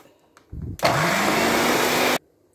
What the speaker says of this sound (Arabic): حطينا كل المكونات وهنضربها بقى كويس.